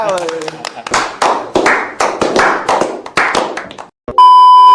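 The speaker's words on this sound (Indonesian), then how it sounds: "Tepuk tangan buat Bang Yos ya" A few people clap for a guest at the end of a coaching podcast, a close, uneven run of separate hand claps that stops abruptly, followed by a steady electronic tone.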